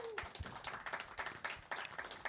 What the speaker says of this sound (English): please give a round of applause for CreaTV allowing for us to utilize this space